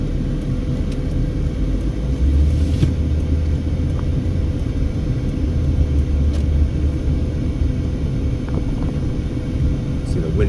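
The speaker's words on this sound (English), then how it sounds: "The winds have really picked up now." Strong gusts of a windstorm sweeping through trees in a residential area of East Las Vegas, a loud continuous low roar and rumble of wind buffeting the microphone, steady throughout.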